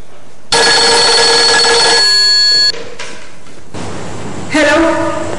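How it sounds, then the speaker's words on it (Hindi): A loud electronic telephone bell rings in a sustained burst, cuts off, then rings again after a short pause. "टेलीफोन, जाओ सुनो किसका टेलीफोन है"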